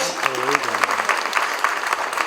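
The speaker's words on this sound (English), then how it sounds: "Ladies and gentlemen, a big round of applause for the Mukul Madhav Foundation." An audience at a women's wellness event claps for a charitable foundation: dense, steady applause throughout, with a voice briefly heard at the start.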